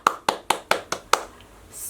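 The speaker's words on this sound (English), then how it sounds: "I'm gonna clap." Six evenly spaced, sharp hand claps ring out close and alone in a quiet room, followed by a brief fading pause.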